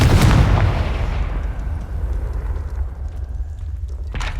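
A Confringo blasting spell explodes in the Hogwarts Legacy video game, a loud broadband burst at the start that decays into a long rumbling tail, with a faint crackle near the end.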